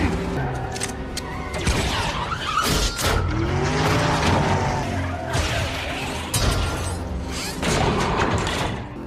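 A car in a Fast and Furious 8 chase strains its engine while its tires screech and skid, with loud bursts of squealing, roaring and crashing noise throughout and no clear talking.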